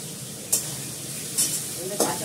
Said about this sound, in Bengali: সর্ষেটা দিয়ে দিলাম।